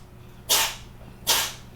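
A cat sneezes twice in quick succession, two short sharp bursts close by about three quarters of a second apart, over quiet room tone.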